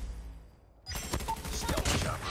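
Dingo LMG light machine gun firing in a video game, a sustained loud burst of rapid automatic shots that starts abruptly after a near-silent lead-in and continues steadily to the end.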